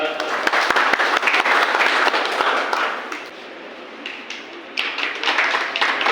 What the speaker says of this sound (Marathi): पुन्हा एकदा टाळ्या वाजला जरा